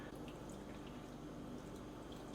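Water poured into a bowl of sourdough bread mix with flour and sourdough starter, a soft, steady liquid trickle running evenly throughout at low level.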